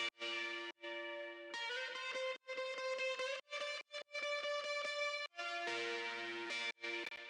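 A heavily distorted electric guitar plays a melody layer in a pop song refrain: loud, buzzing sustained notes in choppy phrases with brief gaps, dense and saturated throughout.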